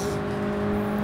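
A race car in Gran Turismo Sport holds a steady, droning engine tone for about a second, the engine note sustained and fairly close without any talk.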